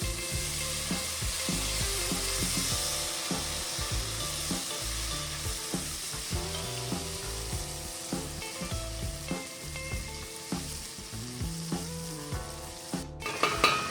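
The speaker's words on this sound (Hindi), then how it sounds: "अब इसमें लहसुन अदरक का जो पेस्ट है वो डाल लेते हैं और इसको अच्छी तरह भून लेते हैं।" Browned onion with garlic-ginger paste fries steadily in a pan, a loud continuous sizzle with rhythmic scraping and stirring strokes throughout, no voices.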